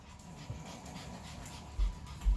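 Dogs panting close by while begging for food, a steady soft breathy rhythm with a couple of low thumps, and no talk.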